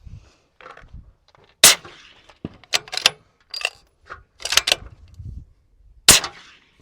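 Gunfire at steel range targets on a range day: several sharp, loud cracks spaced irregularly over a few seconds, with faint clatter and low rumbles between shots.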